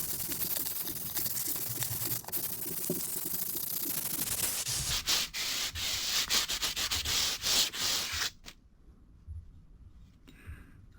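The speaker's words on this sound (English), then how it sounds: "I'm going to take the sanding block out and I'm going to work on the edges with my hand." Hand sanding rasps steadily along the wooden edges of a Les Paul guitar body in repeated back-and-forth strokes, close and fairly loud, then stops, leaving near silence at the end.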